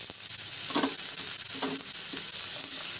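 Onion and ginger pieces fry in hot oil in a pan for gobi manchurian, a strong, steady sizzle broken by a few short stirring scrapes, close and continuous, with no voices.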